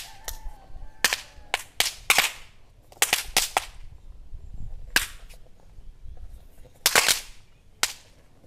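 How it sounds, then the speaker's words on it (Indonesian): Three packs of bang snap firecrackers lit together pop in a rapid, irregular string of sharp, loud cracks, some in quick clusters, with brief pauses between bursts. "3 pak petasan bantingan kita nyalakan"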